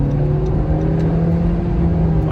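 A video game car accelerates on a speed boost, a loud steady engine drone with a whirring tone that holds throughout without pause.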